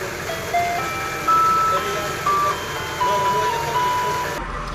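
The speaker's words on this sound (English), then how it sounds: "if you don't hear the ice cream truck in the background, something's wrong" An ice cream truck jingle plays a slow tune of clear, beeping electronic notes, one after another, over a low engine rumble.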